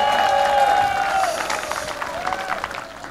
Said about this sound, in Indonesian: Tepuk tangan dulu buat Polimarin dan lulusannya.